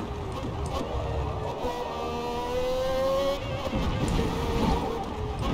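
A race car engine in Forza Motorsport howls steadily and loudly throughout, with rising and falling revs from gear changes and a brief dip before climbing again.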